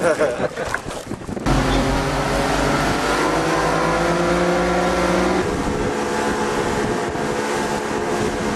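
Speedboat engines roar steadily at high revs as the boat jets across open sea toward Krakatau, with wind and spray noise; the sound is loud and close, starting abruptly after a brief noisy opening and continuing without a break.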